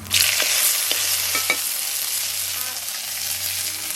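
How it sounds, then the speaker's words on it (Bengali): A spice paste of cumin and ginger hits a hot pan for a magur fish curry, sizzling steadily with broadband frying hiss, a few stirring scrapes early on, and a low hum underneath throughout. "ওই এবার মশলাটা দিয়ে দিচ্ছি"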